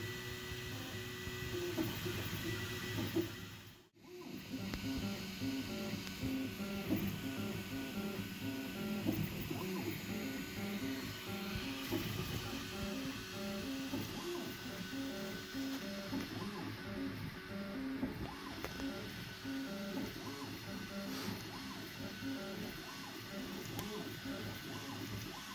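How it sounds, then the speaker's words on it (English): A printer printing parts keeps up a continuous motor whir with a repeating mechanical stepping pattern for over twenty seconds, briefly dipping early on. "I have started printing"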